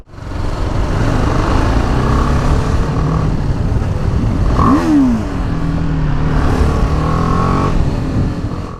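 A motorcycle engine being revved on an Indonesian street, a loud continuous roar rising and falling in pitch through several throttle blips, with a sharp pitch sweep midway, steady and close throughout.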